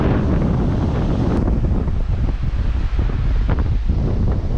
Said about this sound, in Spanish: nunca había sentido tanto viento en una playa